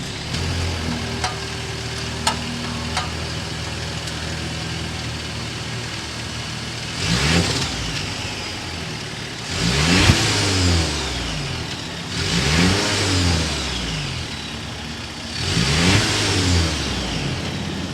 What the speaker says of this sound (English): This is a B5, so we have some exhaust note that will come out of this turbocharged.